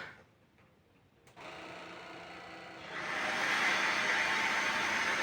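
A new Heifer Power X cordless stick vacuum cleaner whirs up on its first start, its steady motor noise stepping up and then surging to a louder, fuller roar that holds steady.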